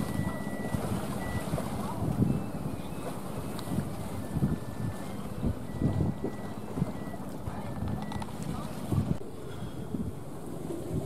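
A heavily loaded fishing trawler approaches Phu Quy island. Its engine gives a continuous low rumble under wind buffeting and sea noise, with occasional thumps, and the level stays fairly steady throughout.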